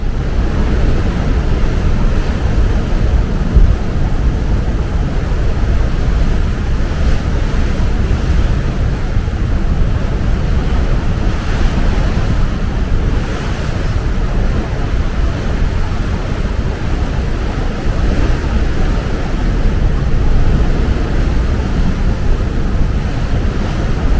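Sea wash and wind buffeting from the deck of the P&O cruise ship MV Ventura as it sails away from port, a continuous loud broadband roar with gusts, steady for the whole stretch and no clear voices.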